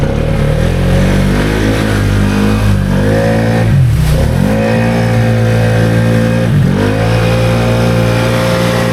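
Can-Am Outlander ATV with an XMR700 18% gear reduction on 33-inch tires, CVT engine revving loud and close with steady high wheel speed, two brief dips as the throttle eases before climbing again, no talk.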